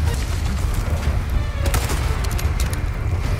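Rapid gunfire crackling in Resident Evil 4 Remake, a dense stream of sharp shots at close range with no talking, steady and loud throughout.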